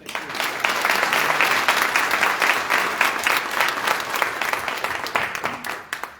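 An audience at a Houston town hall on single-member city council districts gives a speaker a warm welcome, with loud sustained applause that holds steady for about six seconds.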